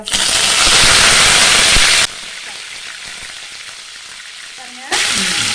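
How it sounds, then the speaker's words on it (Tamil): Loud, dense sizzling and crackling of mustard seeds popping in hot groundnut oil, continuous and close, dropping briefly quieter before surging again. "கடுகு கடுகு வெடிக்க ஆரம்பிச்சிருச்சு"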